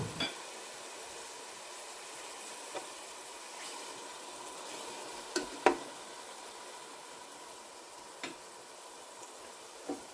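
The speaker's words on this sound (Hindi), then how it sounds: "और ये 2 चमचे ऑयल के इसमें डाल दिए हैं और थोड़ा सा प्याज को फ्राई करेंगे" Onions fry gently in two spoonfuls of oil for a mutton kofta and potato curry, a soft, steady sizzle with occasional light clicks and taps of a utensil against the pot.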